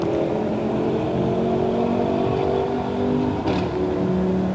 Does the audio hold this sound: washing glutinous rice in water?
no